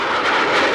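Airplane engines drone in a brief, steady roar, a sustained broad hum with a faint rise and fall, fairly loud and without any voices.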